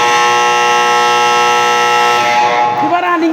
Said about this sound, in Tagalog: Buzzer na lang ang maririnig.